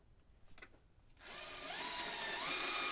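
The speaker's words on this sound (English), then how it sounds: "Just drill a hole in the center of the wad." A power drill starts up after a quiet moment and whirs steadily, close by, its pitch climbing slightly as it bores through the center of a 37mm shell wad.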